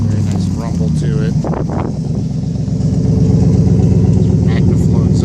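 A 2012 GMC Sierra 1500 extended cab 4x2 with custom Magnaflow dual exhaust idles in a low, steady rumble close by, with someone talking over the start before the engine carries on alone.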